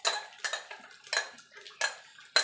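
Chicken pieces being stirred as they fry in a pan for a lemon-chilli dish, giving five sharp metallic scrapes and clinks of a utensil against the pan at a steady rhythm, close and fairly loud with no voices.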